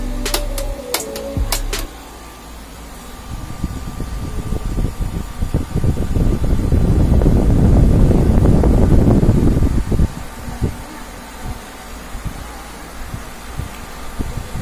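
A Standard wall fan, model SWF-16, runs smoothly after repair, a steady whirring hum that swells in the middle, preceded by a few sharp clicks.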